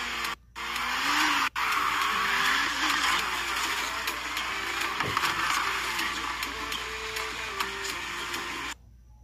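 A Corvette races in the Need for Speed Heat video game, its engine a steady, loud drone with shifting pitch and tire noise, running continuously for several seconds before cutting out at the end.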